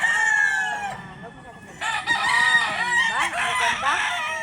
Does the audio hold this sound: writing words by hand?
no